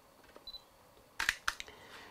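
A camera shutter fires with a Godox TT600 speedlite set for high-speed sync at 1/350 s, giving two sharp, close mechanical clicks a moment apart, followed by a few softer ticks in an otherwise quiet room.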